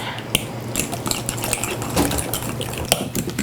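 Bananas, maple syrup and coconut sugar stirred together in a bowl for gluten-free muffins, giving close, steady clinking, scraping and sloshing with a few sharper utensil knocks against the bowl.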